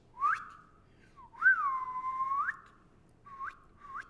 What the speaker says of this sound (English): And then you whistle.